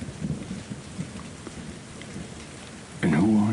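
Soft, steady rain shower hissing gently throughout, with a voice beginning to speak over it near the end.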